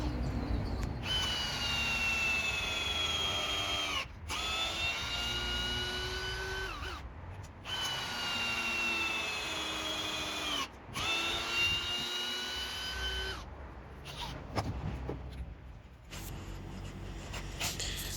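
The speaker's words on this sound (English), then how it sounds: "we're going to use the 80mm bugle screws and just show you how this performs on the Ozito" A brushless Ozito Einhell drill driver drives 80mm bugle screws into timber in three long, steady whining runs, each ending abruptly, followed by shorter bursts and clicks near the end.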